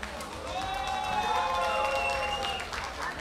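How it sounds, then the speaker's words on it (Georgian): A crowd at a GAMA fighting competition applauds and cheers in a steady, dense roar that swells and holds for several seconds, with a loudspeaker voice or music tones running underneath. "აპლოდისმენტები!"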